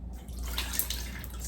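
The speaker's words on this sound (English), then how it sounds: "add a little bit of the broth" Broth pours into a ground beef and potato birria casserole mixture, a soft, steady liquid splash running continuously for a moment with no talking.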